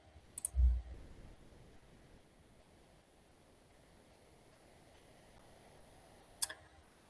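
A computer mouse clicks during a software demonstration: one crisp click near the start, then a long quiet stretch of faint room hiss, and a second sharp click near the end.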